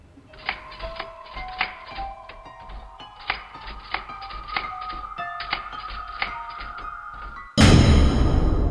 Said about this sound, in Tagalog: Dahan, dahan ko po narinig yung tunog ng, ng typewriter.